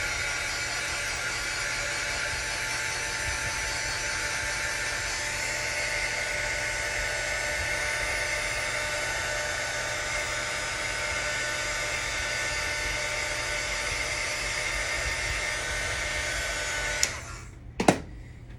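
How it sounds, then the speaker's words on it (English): A heat gun runs steadily for about seventeen seconds drying paint on a painted Target mail holder, a loud constant blowing hiss with a whine, then clicks off with a brief clatter at the end. "I hit it with the heat gun"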